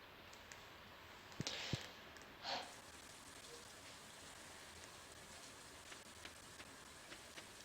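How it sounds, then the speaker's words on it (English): Steady rain falls in the farming video game Stardew Valley, a soft, faint, continuous patter with a few brief clicks scattered through it and no talking. "It always rains on the third day, so thankfully I don't need to water my plants."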